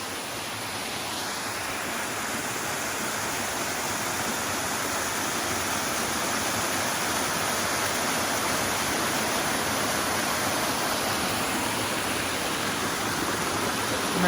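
Wangi Falls in Litchfield, a steady, dense roar of falling water, constant broadband rushing without pauses or voices throughout.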